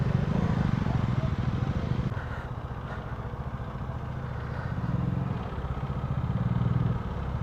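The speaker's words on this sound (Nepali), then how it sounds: "बाइक यता यता, बाइक उता उता।" Motorcycles riding past on a road near Dupcheshor Mahadev Temple in Nuwakot on a hot day, engine drone rising and falling as bikes pass close by, with a quieter lull in the middle.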